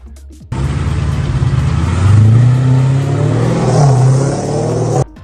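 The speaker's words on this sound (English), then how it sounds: "Kevin Hart's Dodge Challenger SRT Hellcat, the car that is the virtual automotive equivalent of Kevin's comedy routine." A Dodge Challenger Hellcat engine roars to life up close, revving loudly with a deep, rising growl for several seconds before cutting off abruptly.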